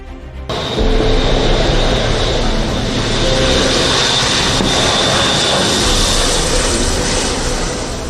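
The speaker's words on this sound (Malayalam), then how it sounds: "ബ്രിട്ടീഷ് വ്യോമസേനയുടെ ട്രാൻസ്പോർട്ട് വിമാനമായ എയർബസ് A400 അറ്റ്ലസ് വിമാനത്തിലാണ് എത്തിയത്" A British Air Force Airbus A400 Atlas transport plane, its engines rising abruptly to a loud, sustained roar that holds steady and close, with a faint whine riding on top and no voices.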